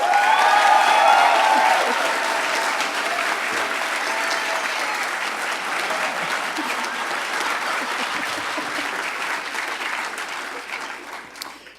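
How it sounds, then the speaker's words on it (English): An audience at a hacker conference closing ceremony gives a sustained, dense round of applause, loudest at the start and holding steady to the end, with some cheering mixed in. "one more round of applause for Johannes, everybody"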